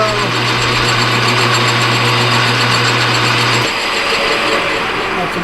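A metal lathe takes roughing passes in a workshop, a loud steady machining whine with a constant low hum that drops away partway through while the cutting noise continues.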